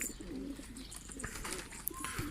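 Pigeons at a new coop give soft, low cooing calls, several short coos in a row with faint chirps and a quiet outdoor background, no clear speech.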